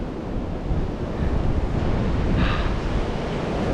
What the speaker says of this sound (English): Listen to this wind. God, look at it just whipping.